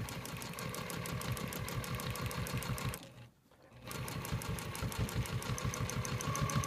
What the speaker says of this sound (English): But I'll stitch around that to make sure it's secure